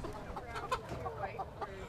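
Chickens cluck in short, soft bursts nearby, with voices murmuring in the background.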